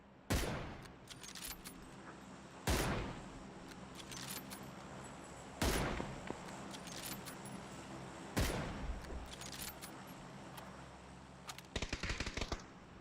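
Gunfire in PUBG: sharp, loud shots crack at intervals of a few seconds, followed by a rapid burst of fire at the end, over a quiet background.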